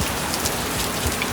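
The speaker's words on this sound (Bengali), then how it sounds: "কি সুন্দর বৃষ্টি হচ্ছে" Steady rain falls outdoors during a monsoon shower after thunder, a dense even patter on surfaces with water running down, close and continuous with no voices.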